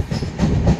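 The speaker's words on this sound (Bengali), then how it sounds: "এই হচ্ছে ট্রেনের স্পিড" The 12343 Darjeeling Mail moving on its rails, a close, loud rumble with rhythmic clatter from the carriage, briefly and without voices.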